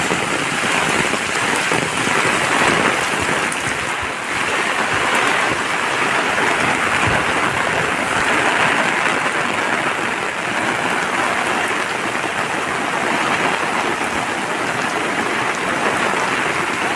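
Heavy monsoon rain that has been falling for four days pours down steadily over farm fields, a loud, dense, unbroken hiss with no voices.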